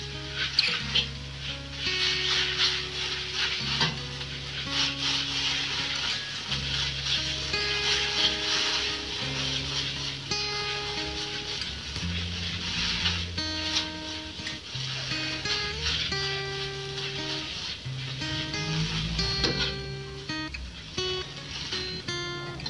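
Kueh teow noodles fry in a hot pan, a steady loud sizzle broken by repeated scraping and stirring strokes of a utensil against the metal, continuing throughout without any voices.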